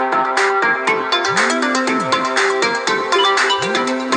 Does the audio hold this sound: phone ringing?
yes